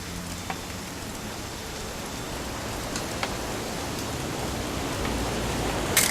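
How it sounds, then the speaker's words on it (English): Steady rain falls across a wide outdoor scene in What Remains of Edith Finch, a soft even hiss with a few faint drops and clicks, no voices. "It's gonna rain the whole weekend, isn't it?"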